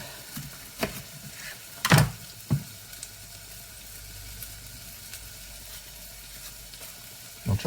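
Onions frying in a pan for cottage pie: a soft, steady sizzle with scattered louder clacks and knocks from utensils or pans, close by and fairly quiet.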